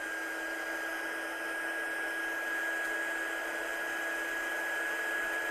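A heat gun blowing over an ink-blended handmade card gives a continuous close, whining whoosh of fan noise with a steady high tone, unchanging for several seconds.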